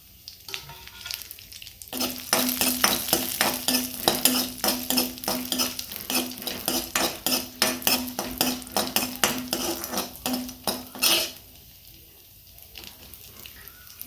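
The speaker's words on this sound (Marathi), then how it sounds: "हे सगळंच भाजून घ्यायचं आपल्याला" Cashews, almonds and raisins roast in ghee in a kadai, a steady crackling sizzle with dense, rhythmic scraping and clinking of a spoon stirring against the metal pan, continuing for about nine seconds before easing off, with no talk.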